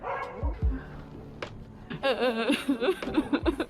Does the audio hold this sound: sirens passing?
no